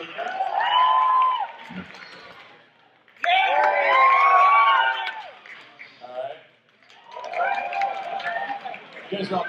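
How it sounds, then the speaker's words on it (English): A convention panel audience cheers and whoops in three loud bursts, each swelling then fading, with short lulls and brief talk between the rounds. "You guys are all cheering fundamentally equally"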